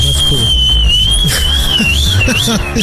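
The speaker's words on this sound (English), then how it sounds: "And a whistle, too." A loud, sustained high whistle wavers and slides in pitch for a few seconds while a crowd murmurs and talks underneath.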